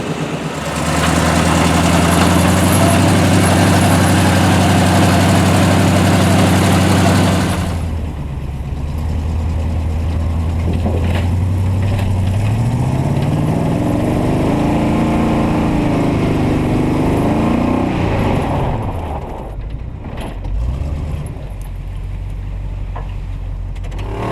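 A wrecker truck's motor runs loud and steady near the microphone, then drops to a lower idle with a rising and falling drone, a constant rumbling engine throughout and no voices.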